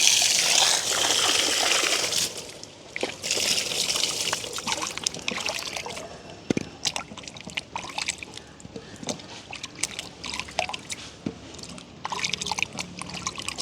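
Water is poured and splashes while raw mangoes are washed in a village kitchen, with a steady gush at first followed by irregular trickles and drips, close and alone without talk.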